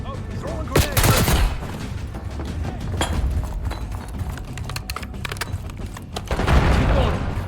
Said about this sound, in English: Oh, throwing grenades.